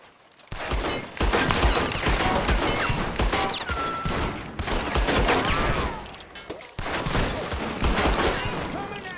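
Gunfire in the Red Dead Redemption II video game, repeated loud shots and bursts in a dense fusillade across the whole stretch, with a brief lull midway and voices mixed in.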